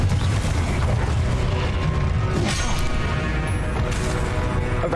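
Confringo blasting spell detonating in Hogwarts Legacy, a loud booming explosion with crashing impacts that stays dense and sustained across the whole stretch, layered with rumbling game effects.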